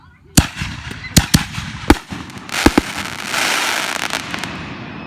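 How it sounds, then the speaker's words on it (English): Fireworks go off close by in a string of sharp bangs and pops, followed by a louder burst of crackling. A voice speaks faintly under the noise. "Is that a firework"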